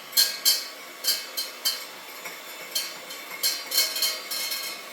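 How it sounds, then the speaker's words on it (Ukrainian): Egg yolk being whisked with milk and butter in a bowl for a flourless chocolate-nut cake, heard as uneven bursts of close, bright clinking strokes against the dish, with short pauses between them and no talking. "Так, взбивай. Жовток збиває."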